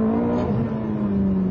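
Ferrari F430 engine held at about 4,000 rpm, a steady, smooth, close drone with a strong low tone and no talk.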